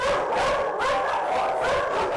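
Many dogs at a crowded animal welfare shelter in Oklahoma barking and yipping together, a dense, continuous, overlapping chorus that stays loud and close throughout.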